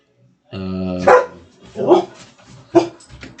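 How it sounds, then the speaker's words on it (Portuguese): A dog barks three times near the microphone, loud and spaced about a second apart, after a short sustained tonal sound. "O cachorro ficou doido aqui. Ixi, deixa ele latir pra lá."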